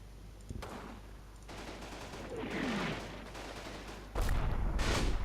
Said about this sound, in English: Well, the mortars are coming down.